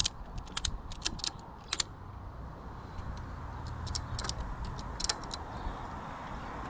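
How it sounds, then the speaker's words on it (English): A ratchet strap is cranked tight aboard a Dutch barge cruising the River Lee in England, giving clusters of sharp close clicks over a steady low engine rumble. "a ratchet strap is the answer to keeping this in place"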